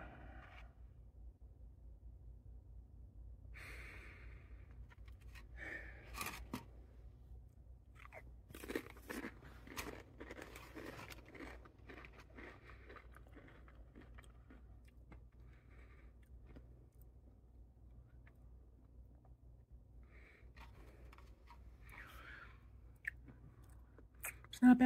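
Pizza-flavored Pringles chips are eaten close to the mic, with scattered crisp crunches and softer chewing over a low steady hum. No one speaks.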